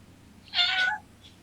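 A single cat meow, drawn out and fairly close, stands alone against a quiet room background with no talking.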